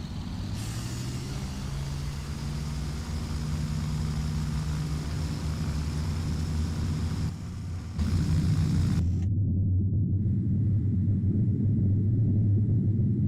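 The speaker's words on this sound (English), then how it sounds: "Taking off in the DC-3 is easy. Just line up with the runway and push the throttle forward all the way." A DC-3 piston engine in FSX roars steadily at full throttle during the takeoff run, a loud continuous drone with a brief dip before it surges again.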